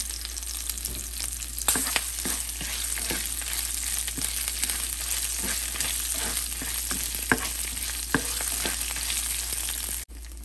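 Tamarind and curry leaves frying in a pan, a steady loud sizzle with crackles and small pops throughout, alone.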